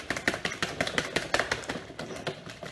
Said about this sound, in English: it's just going to have to be a handheld whisk